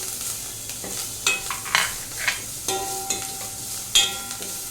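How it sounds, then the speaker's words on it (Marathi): Curry leaves hit hot oil in a tempering for buttermilk kadhi, giving a close, continuous sizzle punctuated by several crisp spatters and pops, with faint stirring underneath and no talking. "लास्टला मी कढीपत्ता घालते."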